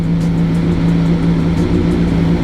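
A stock-exhaust BMW S1000RR sport motorcycle engine idles and revs with a steady, deep droning hum, loud and close, holding a constant low tone throughout.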